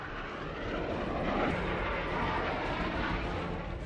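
Military fighter jets in a Republic Day flypast of 42 aircraft, including Jaguars, give off a broad, steady roaring rush that holds for a few seconds with no voices.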